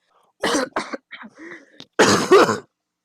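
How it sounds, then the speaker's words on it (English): Several coughs in a row, a couple of short hacks followed by a throat-clearing sound, then a louder, harsher burst of coughing close to the mic. "and then you just actually started coughing."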